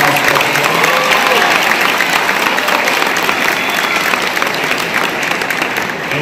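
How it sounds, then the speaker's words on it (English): A packed crowd at an Orrville football pep rally claps and cheers for the school band, a loud, dense, unbroken wash of applause that holds steady from start to finish. "Give a round of applause for us."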